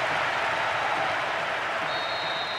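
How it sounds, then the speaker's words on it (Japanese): Stadium crowd roaring loudly during a Uruguay versus Colombia match in the PS2 football game Winning Eleven 2008, a dense steady wall of cheering with no gaps. "スタジアム中は大歓声で揺れています"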